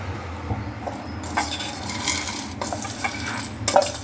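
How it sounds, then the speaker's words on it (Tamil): Fried chana dal being moved into another bowl with a spoon gives a run of close clinks and scrapes against the dish, with small rattling bursts through the middle and a sharp clink near the end. "நம்ம இன்னொரு பவுலில் ட்ரான்ஸ்ஃபர் பண்ணிக்கலாம்."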